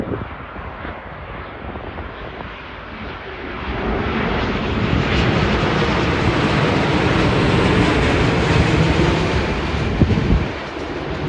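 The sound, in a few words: Boeing 787-9 airliner landing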